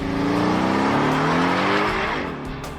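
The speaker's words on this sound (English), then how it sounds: "Got this car finished up and took it out for a test drive." A custom-built sports car on a test drive revs hard outdoors, its engine note climbing steadily in pitch as it accelerates, loud and close before easing off at the end.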